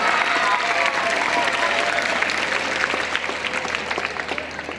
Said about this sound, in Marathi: या शिक्षकांच्यासाठी जरा जोरदार टाळ्या होऊ देत बरं का